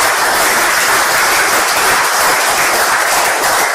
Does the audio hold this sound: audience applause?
yes